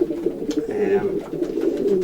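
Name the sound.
racing pigeons cooing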